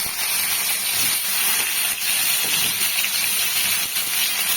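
Salted eggplant pieces frying in hot oil in a pan give off a loud, steady sizzle that holds without a break throughout.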